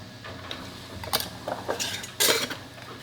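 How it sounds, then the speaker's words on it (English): Metal canning lids and screw rings clink and scrape against glass jars while soup is being canned, a handful of close light metallic taps and rattles with quiet gaps between them. "Put on your lids and your rings"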